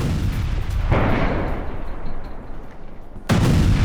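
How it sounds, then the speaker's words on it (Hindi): Missile strike explosions hitting a power station in Kyiv, a loud continuous roar of blasts and rumbling booms, with a sudden fresh surge of noise near the end. "सबसे बड़े पावर स्टेशन पर यह मिसाइल अटैक"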